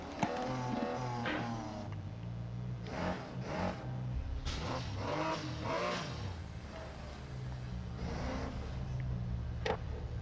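Race cars launch in the mobile racing game NFS No Limits, with engines revving and surging in repeated bursts over a continuous game-music bed at moderate level.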